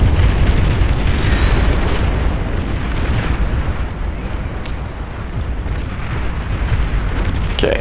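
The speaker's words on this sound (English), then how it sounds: "Wow, that is a lot of weapons fire" Dense weapons fire and explosions from the strategy game Beyond All Reason, a loud, continuous roar of booms and blasts with scattered sharper bursts, no talk.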